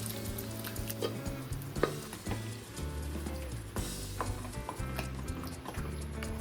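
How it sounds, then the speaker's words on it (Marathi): Vegetables tossed into a hot pan and stirred for pav bhaji, a steady sizzle and fry with repeated scraping and clinking of the spoon against the pan, close and continuous with no talking. "आता आपण भाज्या घालून घेणार आहोत."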